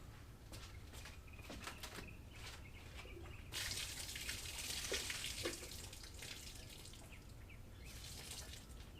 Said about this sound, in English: Dumped the water out.